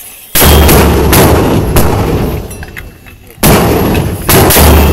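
Marines fire 81mm mortar rounds: three powerful, close booms, one early and two near the end, each leaving a long rumbling decay across an open firing line.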